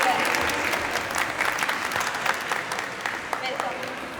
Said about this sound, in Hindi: जोरदार तालियों से स्वागत करिए विनर्स का।